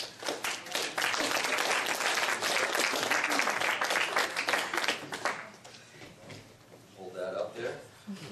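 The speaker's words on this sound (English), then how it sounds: "at the end we'll give them a nice round of applause and thank them for the season" Sustained applause from an audience at a high school girls basketball banquet, loud and continuous for several seconds before thinning into scattered claps and murmuring voices.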